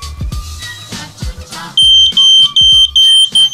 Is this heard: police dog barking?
no